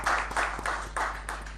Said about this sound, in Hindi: जोरदार तालियों में उनको वेलकम